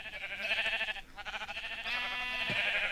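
Sheep in the Minecraft video game bleat in two long, wavering calls close together, with a short gap between them and a soft click near the end; no talking.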